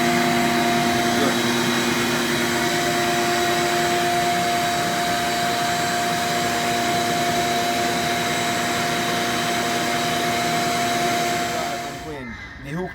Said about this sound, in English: We hooked up the vacuum up there,